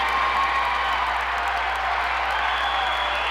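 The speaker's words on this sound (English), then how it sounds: "Crowd going nuts." Crowd at a boys' high school sectional basketball game in New Haven, a steady roar of cheering and noise filling the whole stretch at even loudness.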